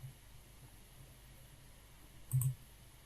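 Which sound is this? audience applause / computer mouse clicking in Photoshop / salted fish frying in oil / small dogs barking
computer mouse clicking in Photoshop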